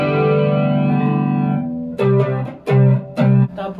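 An electric guitar played through a flanger effect rings out in one sustained, sweeping chord, followed by three short, punchy strummed chords, loud and close.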